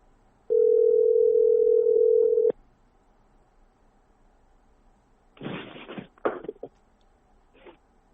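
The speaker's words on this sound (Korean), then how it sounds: "김 씨의 입장을 들어보기 위해서 저희가 전화를 한번 해봤는데요" A steady electronic phone tone sounds for a couple of seconds, then breaks off, followed by a few short bursts of noise and faint clicks on the line.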